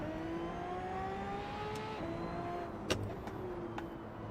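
A car in the Assetto Corsa racing game rolls over cobbles during an Italian street race, giving a steady engine drone under rumbling road noise, with a few sharp knocks near the end.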